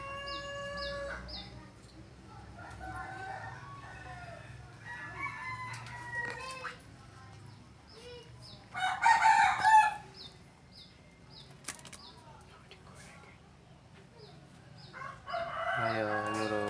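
Calls from a spotted dove (burung terkukur), with several short repeated bird notes spread through the recording, other birds and fowl sounding nearby, and a busier burst of calls midway.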